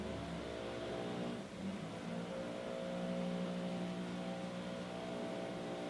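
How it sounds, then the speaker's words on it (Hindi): Trees being trimmed in a garden below produce a distant, sustained mechanical hum from a motorized tool, rising and falling slightly throughout with no speech. "गार्डन में नीचे जो है ट्रिमिंग हो रही है दरख्तों की।"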